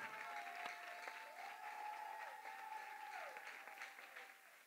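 A church congregation applauding together, steady full clapping throughout with a few cheers and voices mixed in.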